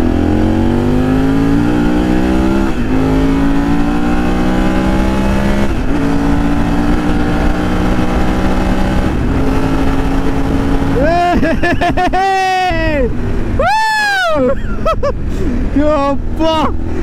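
A BMW F850 GSA motorcycle engine revs hard and climbs through the gears as the rider overtakes, loud and close, with wind noise and sharp rising engine sweeps near the end.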